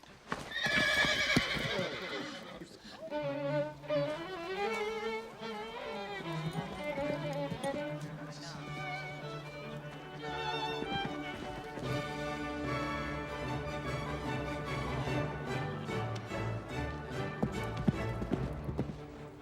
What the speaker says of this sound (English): The horse seems more jittery than the bride.